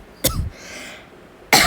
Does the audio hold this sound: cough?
yes